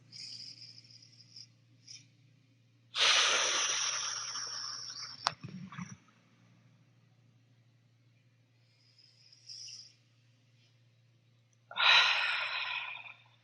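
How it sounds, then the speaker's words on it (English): Long, deep exhales during a yoga breathing exercise, two loud breaths several seconds apart with quieter breathing between, close to the microphone over a faint steady low hum. "Exhale, decompressing, releasing all the air."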